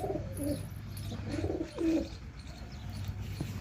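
A male pigeon coos nearby in soft, repeated low throaty phrases, with faint chirps in the background.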